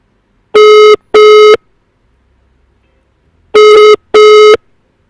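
Ringback tone of an outgoing phone call: two double rings, each pair of steady electronic buzzes, separated by a long silent pause, clear and close with no talking.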